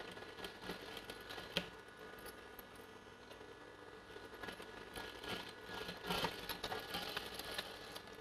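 A sewing machine stitches stone-studded lace on a blouse, its close mechanical whir running steadily throughout with a few small clicks and rustles of handling.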